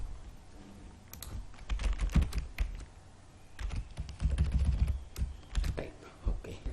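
Computer keyboard keys clatter in bursts of quick typing while coding in Python, close and distinct, with brief pauses between runs of keystrokes.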